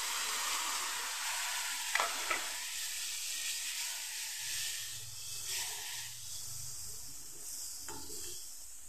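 A spice paste of turmeric, chili, coriander and cumin powders fried with a splash of water for a cabbage dish, giving a soft steady hiss and sizzle with a few scraping stirs, fairly quiet and close.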